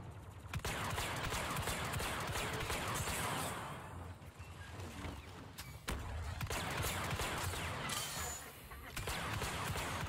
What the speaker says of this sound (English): Bro, Phasma's turret is so annoying.